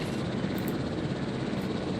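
ACU helicopter in Jurassic World Evolution, a steady, loud rotor and engine drone with broad low rumble, continuous and close, no voices.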